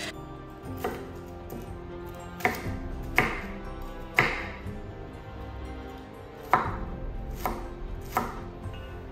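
A knife chops cilantro on a cutting board in irregular sharp taps, close and clear, with short pauses between bursts of cuts.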